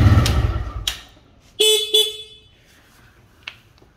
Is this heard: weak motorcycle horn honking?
yes